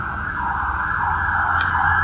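A loud emergency siren wails steadily outside, its rising and falling tone continuous and close, with no voices over it.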